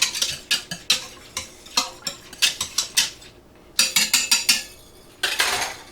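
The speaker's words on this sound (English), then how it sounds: "I'm going to get a whisk and just going to stir that yogurt in a little bit" A whisk stirs yogurt inside an Instant Pot, giving quick, bright metallic clinks and scrapes in rhythmic bursts, close and fairly loud, with a brief pause before a final flurry.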